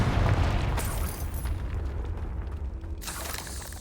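A Confringo blasting spell in a Harry Potter video game goes off as a deep rumbling explosion boom that fades into a lingering low roar, with a second burst of crackle near the end.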